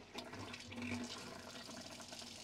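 Water gushes and sputters from a tap in a Roller Team T-Line 740 motorhome, a brief loud rush with an irregular, splashy flow, close by and heard alone.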